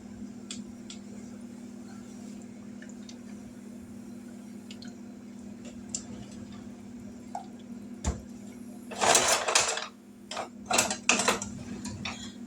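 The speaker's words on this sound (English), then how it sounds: "So we're going to shut this oven off." An oven is switched off, and a few sharp mechanical clicks and clattering knocks come near the end over a steady low hum.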